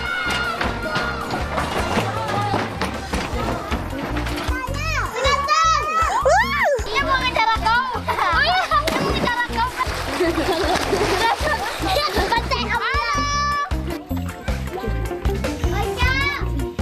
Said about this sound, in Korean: 물속으로 시원하게 뛰어내리는 아이들